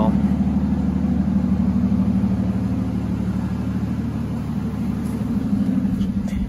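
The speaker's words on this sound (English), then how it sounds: "It's pretty quiet at idle." A 2011 Aston Martin Rapide engine idles quietly and steadily with a low, even rumble, heard close by with no revving.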